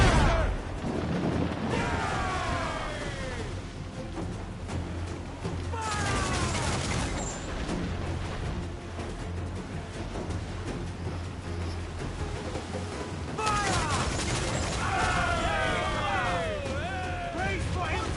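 Broadside of ship cannons in the video game Assassin's Creed 4, heavy booming blasts rolling over a sustained battle din, with crew voices shouting throughout and screechy whistling streaks between the volleys.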